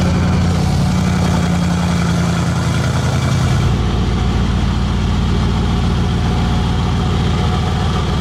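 A Mansory-modified Mercedes-AMG G63 with an upgraded exhaust idles nearby with a deep, loud, continuous grumble. Its low rumble steps down slightly partway through and then holds steady, with no voices over it.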